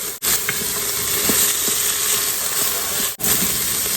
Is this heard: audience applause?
no